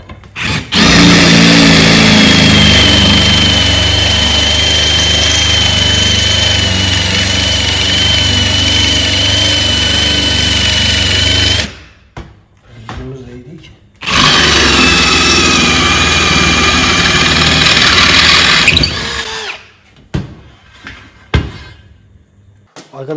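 An Einhell TP-CD 18/60 Li-i BL cordless brushless impact drill bores into 3–4 mm steel angle iron, giving a loud, sustained high-pitched whine for about twelve seconds, a brief pause, then a second five-second burst, and a few clanks afterwards.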